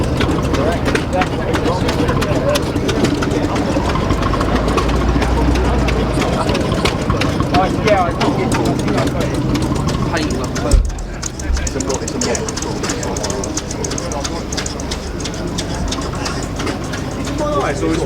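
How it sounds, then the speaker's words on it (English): A narrow diesel orchard tractor at a heritage transport show idles with a steady low rumble, loud and close, with people talking over it throughout. "Now that's a nice little tractor. It's like a narrow tractor. That is a diesel."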